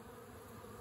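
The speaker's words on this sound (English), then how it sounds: "These would be the forager bees trying to come back to their home, put their whatever they found, their pollen or whatever in, but they can't get in right now." Honey bees buzzing at a hive entrance during an oxalic acid vapor treatment, with many foragers unable to get in, a dense, continuous, close drone without pauses.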